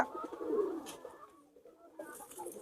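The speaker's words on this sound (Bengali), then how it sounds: "এই যে এখানে ডিম নিয়ে বসে আছে, দেখেন কি পরিমাণে অ্যাগ্রেসিভ কবুতর গুলা আমার" Master pair pigeons brooding eggs give a soft, close, throaty cooing that swells and fades, followed by a quieter second murmur.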